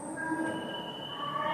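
A train pulls away from a station platform, with a steady rolling rumble and high metallic wheel squeals and tones, heard at moderate level without talk.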